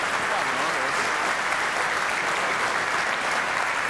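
Arena crowd applauding steadily after a curling shot by Campbell at a 1996 televised skins game semi-final, broad sustained clapping throughout with faint voices mixed in.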